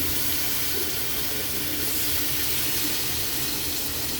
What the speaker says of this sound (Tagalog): Maglagay tayo dito kay Eli ng kunting tubig lang